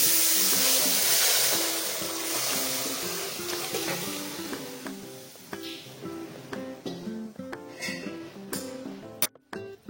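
Cooked mutton and its liquid are poured into roasted masala for a spicy Satara-style curry, starting with a gurgling pour and settling into uneven bubbling and sizzling close by.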